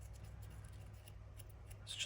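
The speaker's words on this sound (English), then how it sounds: "it's like really cool when you just go over it with your scissors or your distressing tool" Scissors or a distressing tool scraping along the edge of paper ephemera for a junk journal, giving a steady, faint rasping rub that lasts the whole stretch.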